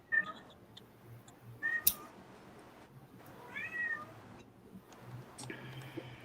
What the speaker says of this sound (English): I hear the cat talking to Mr. Beast again